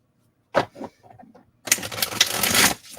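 A couple of soft taps and rustles, then a quick burst of oracle cards being riffled and shuffled together, close and crisp.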